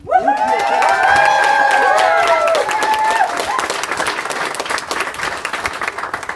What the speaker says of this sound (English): I think it's appropriate to applaud for a very beautiful bride and a very handsome groom.